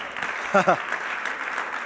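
A congregation applauds for Jesus at a church service, a soft continuous patter of hands, with a brief voice cutting through near the start.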